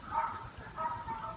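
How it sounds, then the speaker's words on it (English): Dogs bark in two short bursts outdoors, the yaps sounding thin and a bit distant over low rumbling background noise. "So let's get away from these dogs."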